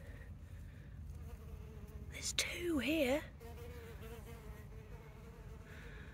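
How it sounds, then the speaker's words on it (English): Bees buzz around flowers outdoors with a faint, steady drone that runs beneath a woman's quiet speech, with a brief brighter burst of sound near the middle. "Look, I haven't spotted a bee this year yet."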